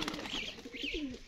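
A Singhara pigeon, a trained racing bird kept in a loft, coos softly in a short rolling phrase, close by, with faint chirps and a little background noise around it.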